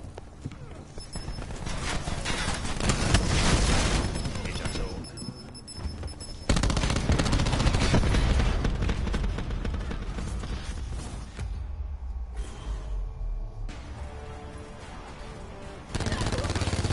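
Call of Duty gunfire during a robot-escort match: dense, continuous rapid shooting and bursts throughout, loud and busy, with abrupt level changes and game voices mixed in.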